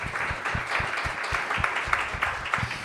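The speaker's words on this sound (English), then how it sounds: "Round of applause, please." A crowd at a chamber of commerce event applauds in a modest, scattered wave, with individual claps standing out, fairly distant in a large room and with no talking over it.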